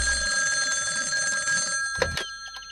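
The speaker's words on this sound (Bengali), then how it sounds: "এই সকালবেলা আবার কে ফোন করলো?" A cartoon telephone rings with a repeating electronic bell tone, followed near the end by a short, louder burst of ringing. There is no voice.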